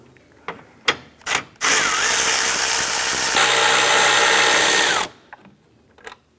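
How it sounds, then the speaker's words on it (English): On a 2004-2008 Acura TL, a power ratchet backs out the 10mm bolts holding the radiator fans. A few sharp clicks come first, then a loud, steady mechanical whirr lasts about three and a half seconds and stops abruptly, followed by faint clicks. "We're going to go ahead and remove our 4 10mm bolts holding both fans, the cooling fan and the two on this side here for our radiator fan."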